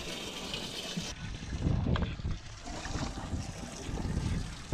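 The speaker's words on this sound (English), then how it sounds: "You ever turned the aerator on before?" A boat's aerator starts and water gushes and splashes nearby, a faint, irregular rushing with soft bursts over a dull background.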